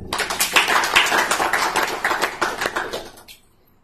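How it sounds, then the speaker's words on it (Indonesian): A church congregation applauds for God, a dense burst of hand clapping that holds steady for about three seconds and then fades away to quiet. "Tepuk tangan untuk Tuhan."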